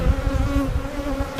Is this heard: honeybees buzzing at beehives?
yes